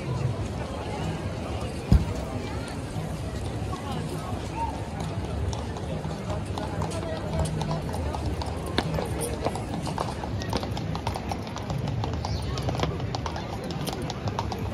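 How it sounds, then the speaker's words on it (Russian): Horse-drawn carriages cross the central square of Krakow, Poland at Christmas and New Year, hooves clip-clopping steadily amid a busy crowd murmur and occasional birds, with a continuous outdoor bustle throughout. "Мне понравились эти лошади с каретами. Хочу вам показать."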